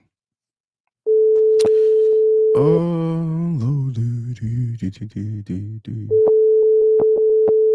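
A steady busy-signal tone plays, then is cut off by a short stretch of talking, and the tone resumes and continues to the end.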